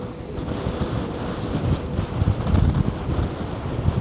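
Strong wind buffets the microphone with a steady roar at the seashore in Soulac, and waves wash in underneath, continuous and loud throughout.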